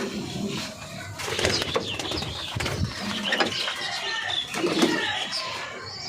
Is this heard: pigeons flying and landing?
yes